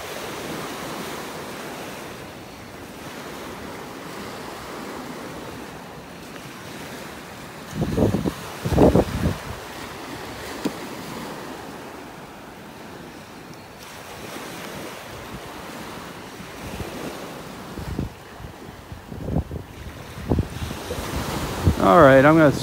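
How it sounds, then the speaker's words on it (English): Ocean waves wash steadily onto a beach in North Naples, Florida, as the tide comes in, with a constant surf roar, gusts of wind buffeting the microphone and a few louder rushes near the end. "The tide is slowly coming in here."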